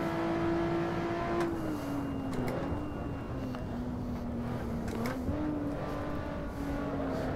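A Lotus Evora S sports car engine drones steadily while driving on track, its pitch shifting slightly through a corner with gear changes, loud and close with faint tire noise.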